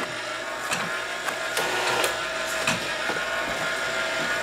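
Flatmatic labeling machine feeding small flat boxes and applying stickers, giving a steady mechanical whir with repeated short clacks and taps at irregular intervals, close and fairly loud, no talk.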